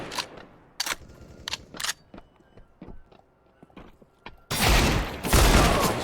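Desert Eagle pistol shots crack out in Counter-Strike on the Train map, several sharp separate reports with footsteps between them, then a louder burst of gunfire near the end.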